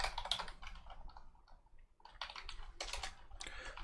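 Computer keyboard typing in bursts of rapid clicks, with a short pause midway, close and fairly quiet while writing code for a shoot-'em-up game during a live stream.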